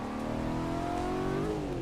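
A race car engine in a driving simulator game hums steadily with rising pitch, a smooth continuous motor tone that climbs and then dips slightly near the end, moderately loud with no talking.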